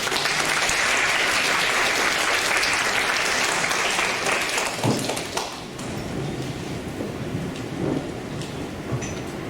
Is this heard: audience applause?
yes